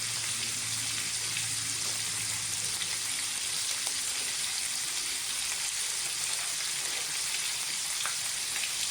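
Chicken browning in a frying pan, a steady, even sizzle of hot oil throughout with faint crackles and no talking.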